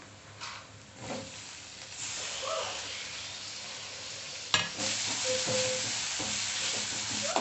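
Green chillies, curry leaves and tomato sautéing in a pan, a moderate sizzle that swells after a sharp clatter, with scraping stir strokes, close by and without speech.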